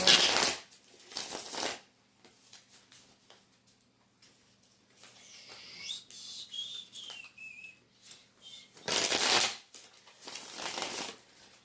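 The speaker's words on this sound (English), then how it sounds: "Even though I already shuffled, I still feel the need to shuffle again" Short bursts of tarot cards being riffled and shuffled, with a quiet stretch and a faint thin whistling tone between them, then a longer shuffle at the end.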